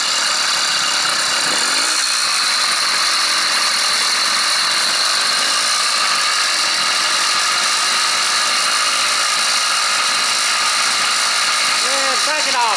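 A small gas engine mounted on a bicycle runs steadily at idle, a loud, constant buzzing drone throughout with slight fluctuations, close to the listener.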